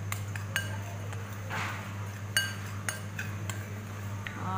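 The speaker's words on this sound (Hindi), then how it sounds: "तीनों चीज़ों को अच्छा सा मिक्स करें," A spoon mixes flour and milk powder in a bowl, making steady scraping, clinking strokes against the bowl's side, close and fairly loud with no talking.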